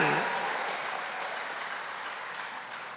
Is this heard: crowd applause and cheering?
yes